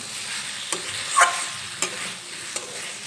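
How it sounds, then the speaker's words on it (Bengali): Sugar stirred into vegetables in a pan: a steady soft sizzle with a few sharp spoon scrapes and clinks spaced about a second apart, close and fairly loud. "চিনি দেওয়ার পর সবজির সঙ্গে চিনিটা ভালোভাবে মিশিয়ে নিলাম"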